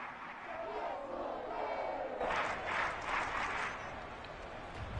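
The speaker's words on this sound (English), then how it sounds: "Plenty of shouts from this crowd as they watch the replay." A football stadium crowd shouts and roars in a broad, sustained wash of noise that swells louder partway through, heard from within the stands.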